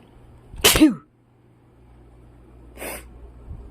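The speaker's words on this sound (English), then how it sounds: "I sneeze on it." A single sharp sneeze bursts out nearby, followed a couple of seconds later by a softer breathy snort or sniff in an otherwise quiet room.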